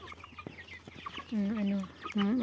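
Broiler chickens eating cabbage, making soft clucks and pecking taps before two louder, drawn-out warbling calls up close, with no talking.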